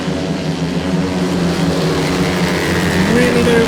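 Solo 500cc motorcycles accelerate on a grass track circuit at a Wimborne Motorcycle Club European semi-final, a steady droning engine roar with rising pitch as throttles open, under a commentator's talk.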